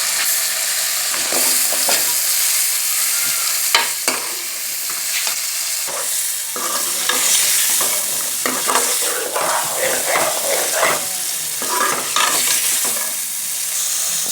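Potatoes are fried and stirred in a turmeric-spiced masala, a continuous close sizzle broken by repeated scraping and clinking strokes of the spoon against the pan, with no talking.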